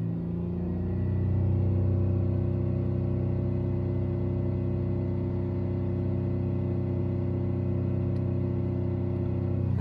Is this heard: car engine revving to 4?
yes